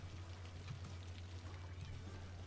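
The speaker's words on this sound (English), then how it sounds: "This rain is not helping." Rain falling on a Cities Skylines city: a steady, soft hiss of rainfall under a low constant hum, faint and unbroken throughout.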